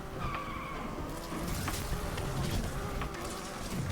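Mercury Cougar sliding as it hits dirt in the racing game Need for Speed, with a steady tire skid and engine roar running continuously at even loudness over a noisy background.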